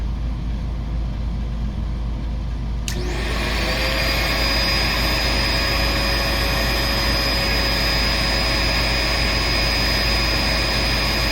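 A Dirt Devil Platinum Force 091200 vacuum cleaner switches on and spins up to a loud, steady whine with a high-pitched motor tone over constant airflow roar, running close throughout.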